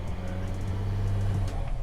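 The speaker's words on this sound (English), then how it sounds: "There's some turbo sound." A VW Amarok V6 engine idles with a low, steady rumble, then rises briefly in a rev with a faint turbo whine before settling back.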